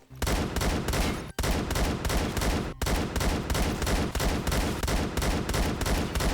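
Rapid sustained automatic gunfire from a zero-recoil gun in the video game Phantom Forces, long unbroken bursts with two brief pauses, loud and close, no talk over it.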